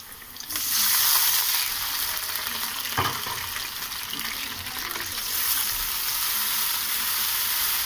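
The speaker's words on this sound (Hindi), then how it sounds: "अब इसमें जाएगा लहसुन का पानी।" Garlic water poured into a pan of frying onions for matar pulao sets off a loud, steady sizzle that starts abruptly and holds throughout, close to the pan, with a faint knock partway.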